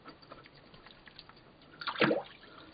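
Water sloshing and splashing inside a shisha base as it is shaken to rinse out dirt, a brief wet burst rising near the end after quiet trickling.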